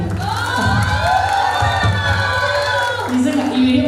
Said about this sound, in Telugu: ఒక్కసారి గట్టిగా క్లాప్స్ అండి.